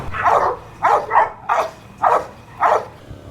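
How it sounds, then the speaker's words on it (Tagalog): Several dogs bark in bursts at a large Doberman farm kennel in Bulacan, six loud, close barks spaced roughly half a second apart, with a quieter background of other dogs between them. "Napakadaming aso."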